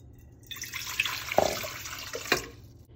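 Warm water pours into a bowl for pizza dough, a faint trickling splash with a couple of sharper drips and splashes, close and alone.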